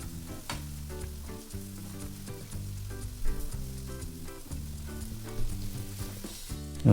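Chicken pieces for Afghani chicken curry frying in a pan: a steady sizzle and crackle under tuneful background music, with no talking.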